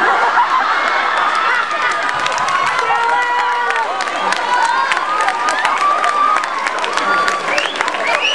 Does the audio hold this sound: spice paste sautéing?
no